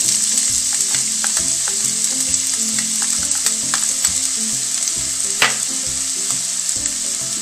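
Onion sautéing in hot oil in a heated pan, a steady loud sizzle and crackle with frequent small pops, continuous throughout with no talking.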